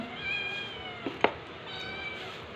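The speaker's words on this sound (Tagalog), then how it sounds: "Ano ba naman tong pusa?" A house cat gives drawn-out, plaintive meows at close range, with a sharp brief sound in the middle and a softer meow again near the end.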